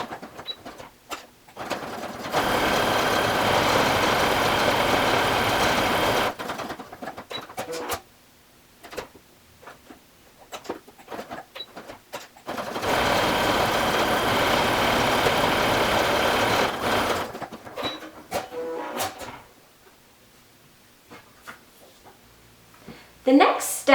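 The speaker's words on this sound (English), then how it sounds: "I am using a stretch stitch to sew these shoulder seams" A sewing machine runs a stretch stitch along the shoulder seams of a half-zip pullover in two steady bursts of several seconds each, separated by quiet handling of fabric.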